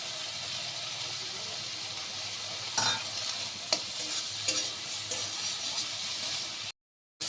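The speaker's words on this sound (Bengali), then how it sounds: "চিংড়ির সাথে পেঁয়াজগুলো আমি ভেজে নেব।" Onions and prawns frying in oil in a pan, a steady loud sizzle with occasional clinks of stirring, continuous before a brief drop to silence near the end.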